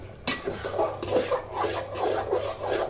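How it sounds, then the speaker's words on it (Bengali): Scraping and rubbing of a spoon stirring sweet, sour and spicy raw-mango pickle in a pan, a steady near rasping that comes in repeated strokes without a pause. "এখন আমরা এইভাবে নাড়তে থাকবো অনেকক্ষণ।"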